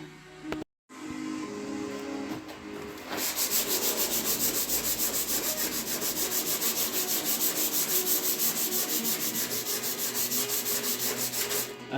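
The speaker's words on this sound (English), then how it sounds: "I'm going to lightly go over it with some 120 sandpaper just to get any of the high spots off" Steady, close rubbing of 120-grit sandpaper worked by hand over dolphin glaze filler on an R33 Skyline front bumper, with continuous scratchy back-and-forth strokes lasting several seconds after a brief pause.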